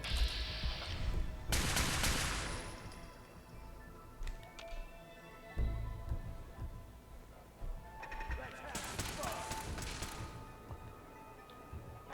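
Gunfire in the Fallout 4 video game crackles in several loud bursts with quieter stretches between them, over a background of ambient game sound and an announcer-style voice.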